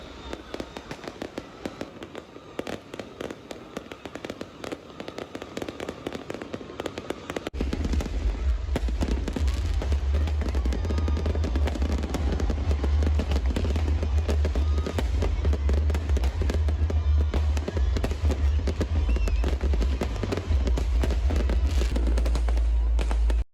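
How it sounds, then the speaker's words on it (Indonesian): New Year's fireworks in Medan crackle and pop continuously, with a dense barrage of explosions and a deep rumbling boom growing louder partway through. "saat kembang api menyala, warga Kota Medan dapat menyaksikan kemeriahan kembang api"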